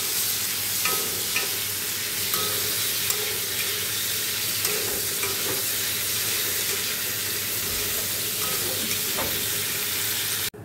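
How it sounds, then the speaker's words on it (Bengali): Cauliflower florets frying in a pan give a loud, continuous sizzle with a bubbling, watery edge, steady throughout and close by. "দেখো ফুলকপিগুলো ভাজা হয়ে গেছে।"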